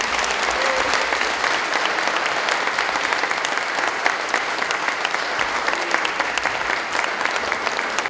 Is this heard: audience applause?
yes